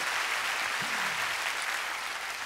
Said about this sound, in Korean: 10cm 위에서 다시 한번 박수 좀 부탁드리도록 하겠습니다